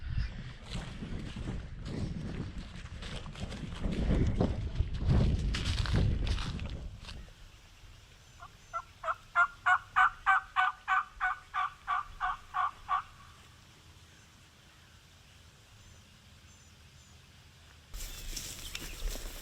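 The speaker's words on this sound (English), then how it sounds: "There was a bird gobbling down in this bottom" A wild turkey gobbles from a creek bottom during a Kentucky spring turkey hunt, a rapid rattling burst of about a dozen pulses after a stretch of wind and rustling, moderately distant and without talk over it.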